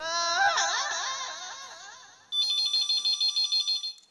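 A call goes through on a telephone. It gives a regular electronic ring of short pulses repeating quickly for about two seconds, after a stretch of unrelated wailing tones.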